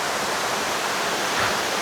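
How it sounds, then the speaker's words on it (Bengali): A waterfall in full flow during the rainy season gives a constant, close, loud roar of rushing water with no pauses and no voices. "ঝর্ণার সাউন্ডটা এক কথায় অসাধারণ"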